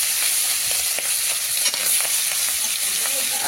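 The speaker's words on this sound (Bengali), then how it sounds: "কড়াইটা গরম হয়ে গেছে, মাছগুলো দিয়ে দিচ্ছি" Fish fried in hot oil in a wok, a steady close sizzle and crackle with no talking.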